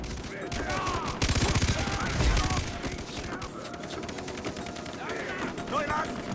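Rapid game gunfire from a Far Cry 3 firefight crackles in repeated bursts throughout, loud and close, with voices talking over the shots.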